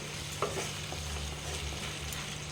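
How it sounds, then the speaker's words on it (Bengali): Mutton curry with potato is stirred and sautéed in a pan, with a soft, steady sizzle and scraping stirs heard close but fairly quiet, and no voices. "এরপর আমি এইটাকে আবার কষবো ঢাকনা দিয়ে"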